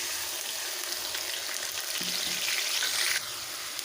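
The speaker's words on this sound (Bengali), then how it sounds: "এবারে দিয়ে দেবো বেটে রাখা মশলাগুলো জিরে আদা শুকনো লঙ্কা" A pan sizzles steadily and loudly as a ground paste of cumin, ginger and dried chilli fries, with a few brief stirring scrapes near the end and no talking.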